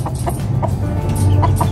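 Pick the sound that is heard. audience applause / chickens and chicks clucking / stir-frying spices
chickens and chicks clucking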